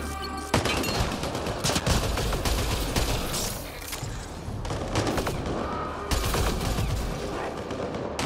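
Heavy gunfire in the sci-fi game Mass Effect: Andromeda crackles in loud, overlapping volleys, with bursts of shots and impacts filling the scene almost without pause.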